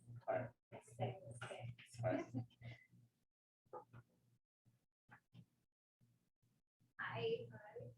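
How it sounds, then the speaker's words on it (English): Excited pet dogs bark and whimper behind a house door during a door-knocking visit, the noises faint and partly under a person talking, then trailing off into sparse yelps. "Oh, sorry, my dogs are crazy."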